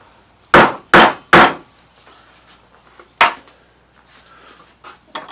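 A mallet drives a narrow chisel into wood while carving a drawer front: three loud, quick knocks in a row, a pause, then a single strike and a few softer taps, close and alone.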